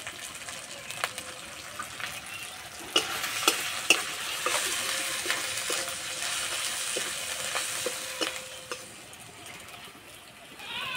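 Spice paste of ground cumin, coriander, turmeric and chilli sizzles in a pan with a splash of water, stirred with a steady scraping and occasional sharp clicks of the spoon against the pan, close and moderately loud.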